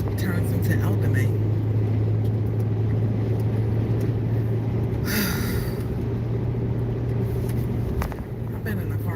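Steady low engine drone and road rumble inside a car on a delivery run, continuous throughout with a brief brighter whoosh midway and a slight dip near the end.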